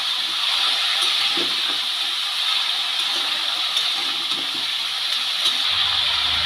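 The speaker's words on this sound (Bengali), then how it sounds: "ফুলকপি আলু একসাথে খুব ভালো করে ভেজে নেব।" Cauliflower and potatoes fry together in a pan, giving a continuous close sizzle and hiss that holds steady at a fairly loud level throughout.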